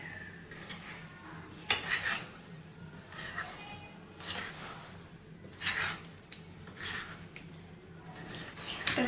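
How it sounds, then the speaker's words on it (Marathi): A spoon scrapes and rubs through a bowl as halved boiled potatoes are mixed into a tangy yogurt and spice mixture, soft rasping strokes in repeated bursts with quiet pauses between. "आता हे उकडलेले बटाटे ह्या मिश्रणामध्ये घालून घ्यायचे आणि मिक्स करून घ्यायचे"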